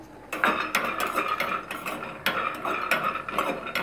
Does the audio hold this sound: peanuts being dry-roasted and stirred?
yes